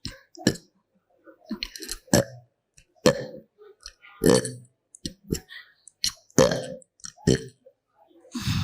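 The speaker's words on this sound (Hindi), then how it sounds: "जाओ, आज के बाद ये डकार बंद," A woman lets out a series of loud, close burps in irregular bursts, with clicks and throat noises between them and short pauses of quiet.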